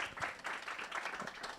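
An audience at a mountain festival talk claps briefly to welcome a speaker, soft rhythmic hand claps from a modest crowd, fairly faint and short.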